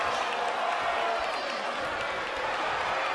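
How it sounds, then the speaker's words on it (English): A roaring crowd in the wrestling video game WWE 2K23 cheers continuously in a dense, even wash of noise, with scattered clapping mixed in. "The sound of this crowd is deafening, and he's asking for more."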